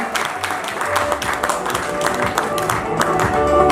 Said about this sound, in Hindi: आप सब लोग जबरदस्त तालियां बजाएं